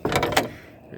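The door latch on a 1961 Comet car clicks and clunks open in a quick pair of mechanical knocks, followed by a brief quieter rustle as the door begins to move.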